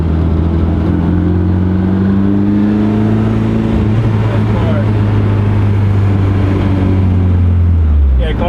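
A 1991 Honda CRX Si drives along with a loud, steady engine drone and road noise, its pitch climbing slightly as it gets up to speed, while someone talks over it from inside the cabin.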